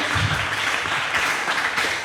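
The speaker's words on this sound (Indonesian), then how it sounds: "Oke, tepuk tangan untuk Kang A'la" An audience at an Indonesian Quran study gathering claps in a brief, steady burst, moderately loud and close, with no voices over it.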